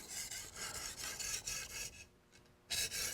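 A culinary knife edge is drawn across a sharpening stone in close, soft rasping strokes, a rhythmic series of about half a dozen quick scrapes with a short pause before a final pair.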